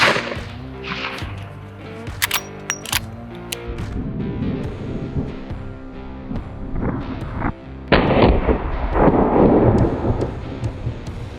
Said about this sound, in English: All right, there's the 44 Magnum.